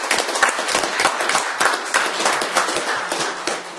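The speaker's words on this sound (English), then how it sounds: "could I have a round of applause for those?" A crowd at an employee recognition gathering claps loudly and closely, dense overlapping handclaps with slight swells and dips over a few seconds.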